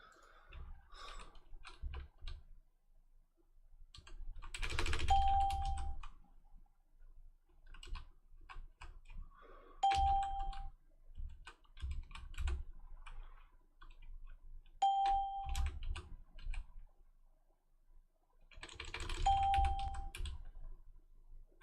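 Scattered keyboard clicks and typing bursts on a computer over about twenty seconds, with a short tonal ding repeating roughly every five seconds, quiet room, no speech.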